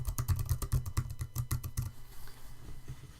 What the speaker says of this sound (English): you can type in the title of your note and you can type away